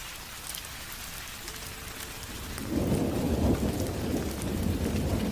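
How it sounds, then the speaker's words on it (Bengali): Sudden rain breaks out in a ghost cartoon scene: a faint patter first, then heavier rainfall and a low rumble of thunder swell in midway and keep going, with no voices. "হঠাৎ বৃষ্টি শুরু হলো"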